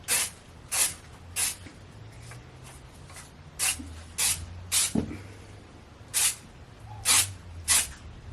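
Short bursts of aerosol self-tanner spray hiss out one after another at an uneven pace, about a dozen quick sprays with quiet pauses between.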